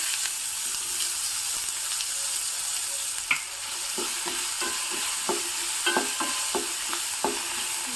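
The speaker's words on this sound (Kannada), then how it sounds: "ಈಗ ಇದಕ್ಕೆ ಒಂದು ಮೀಡಿಯಂ ಸೈಜ್ ಈರುಳ್ಳಿ ಹಾಕ್ತಾ ಇದ್ದೀನಿ" A medium-size onion fries in hot tempering oil in a pan, giving a soft, steady sizzle broken by repeated close scraping and clinking strokes as it is stirred, with no talking.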